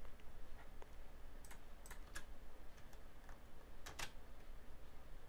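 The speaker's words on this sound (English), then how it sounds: "pressing Alt-C on your keyboard" Computer keyboard keys are pressed in a sparse, irregular series of light clicks, a few grouped close together, close by and fairly quiet, with no talking.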